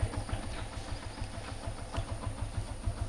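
A motorbike engine idling nearby, a low steady rhythmic throb with fine, even pulsing, heard alone at moderate level.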